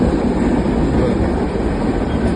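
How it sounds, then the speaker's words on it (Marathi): A Konkan Railway train rumbles past close by, a loud, continuous roar of wheels and carriages filling the whole stretch with no break. "कोकण रेल्वे"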